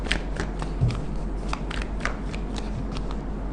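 Tarot cards shuffle in quick, repeated riffling bursts, close and fairly loud over a low steady hum, with no voices.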